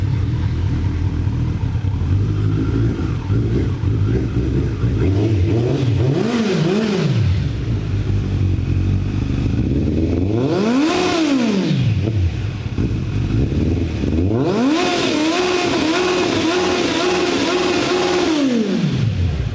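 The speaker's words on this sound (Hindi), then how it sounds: "और इसकी मैं आवाज़ सुनाता हूँ आपको Z900 की" Kawasaki Z900 motorcycle engine revved repeatedly while standing, three distinct blips rising and falling in pitch over a steady idle, loud and close, with no talking.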